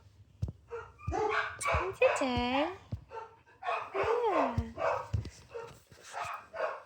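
A dog yips and barks in short, whiny bursts close by, mixed with a person talking in between.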